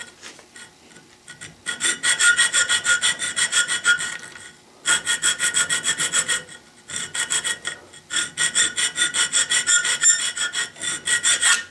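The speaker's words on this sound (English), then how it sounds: "This aluminum files very easily." A square file rasps across aluminum in three long bursts of rapid, even strokes, loud and close, with short pauses between bursts and no talking.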